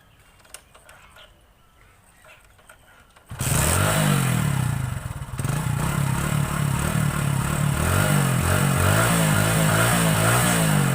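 A motorcycle is kick-started with the throttle held slightly open: a few quiet clunks, then the engine catches and runs loudly nearby, idling steadily with a slight rev.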